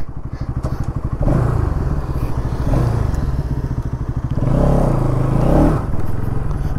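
Bajaj Pulsar NS200 ridden up close, its engine giving a steady thumping rumble that swells and eases through several revving surges, with some clatter and no voices.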